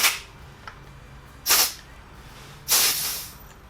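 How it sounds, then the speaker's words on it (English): Air pressure hisses out of a DVO Sapphire D1 suspension fork valve with its machined cap unscrewed, two short sharp bursts and then a longer release, close and alone without talk. "I'll unscrew the machined valve cap"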